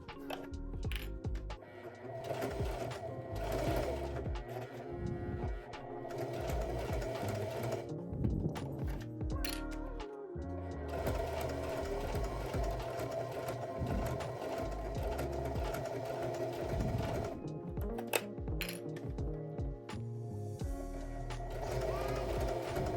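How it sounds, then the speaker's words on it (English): A sewing machine top stitching bias tape down near the edge of a pouch, a loud continuous mechanical whirr with brief stops and restarts, while a voice talks at times over it. "And now I'm just going to top stitch the bias tape down as close as I can to the edge here"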